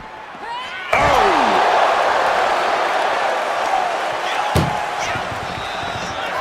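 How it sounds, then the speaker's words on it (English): Ambulance door being forced shut in the WWE 2K25 wrestling game: one loud metallic slam, then a second sharper bang a few seconds later, over a continuous crowd roar. "Trying to force the first door closed."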